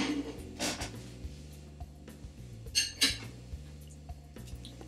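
Two forks shred steamed chicken fillet cooked in a multicooker, giving scattered metallic clinks and scrapes against each other and the dish, irregular and close, with no talking.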